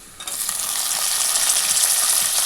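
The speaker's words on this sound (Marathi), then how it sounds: "तर यामध्ये आपण तेल टाकून आता आपण टोमॅटो टाकून देऊया." Tomatoes dropped into hot oil for Maharashtrian misal, starting a loud, steady, close sizzle that rises sharply after a brief quiet moment and holds with a continuous crackling hiss, no voices.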